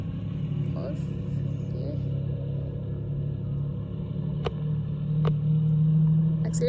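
A car engine rumbles low and steady inside a garage in Turin, then swells louder toward the end as it is revved, with people talking over it throughout.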